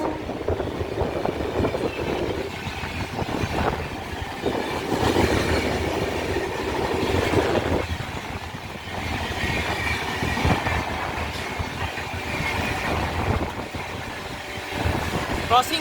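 An EMU local train on the Howrah to Digha summer special rolls steadily along the rails, a continuous loud rumble with rhythmic wheel clatter and occasional squeal, and voices can be heard faintly over it.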